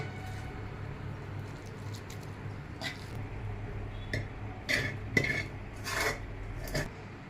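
Cooked raw mango is scraped from a pan onto a plate with a utensil, giving soft rubbing and squishing under a low background hum, with a few sharper clinks toward the end.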